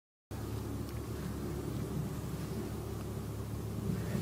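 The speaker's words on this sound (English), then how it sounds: "That truck was loud." A truck rumbles past outdoors at a camping spot, a steady low broadband roar that holds loud and even throughout after a sudden start.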